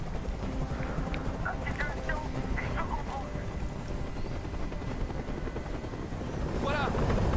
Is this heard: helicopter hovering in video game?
yes